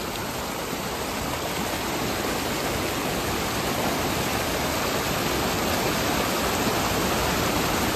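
Ethipothala waterfall pours in a loud, dense, unbroken roar of rushing water heard up close, with no break and no voices.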